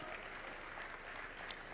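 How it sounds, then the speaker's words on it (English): Quiet crowd applause at a live national event in Kenya: a soft, even hiss of many people clapping in the background, brief and steady. "give her a round of applause."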